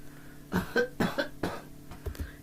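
A person coughs several times in a quick, rough burst, nearby and fairly loud, with a couple of weaker coughs trailing after.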